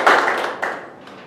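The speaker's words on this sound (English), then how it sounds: "A round of applause to Toastmaster" A small meeting audience clapping for the Toastmaster: a short burst of close applause that swells briefly a second time before fading, with no speech.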